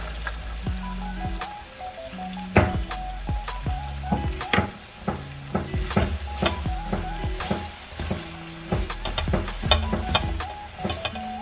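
Pork and kimchi stir-frying in a pan in spicy sauce, a steady sizzle broken by repeated sharp scrapes and clacks of a utensil against the pan, with no talking.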